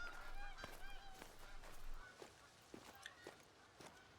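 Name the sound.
snow geese honking in video game theHunter: Call of the Wild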